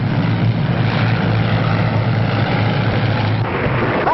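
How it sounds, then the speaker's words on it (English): A low, steady airplane engine drone as a plane comes down to land, loud and continuous throughout with no pauses. "Let me know when you hear my motor."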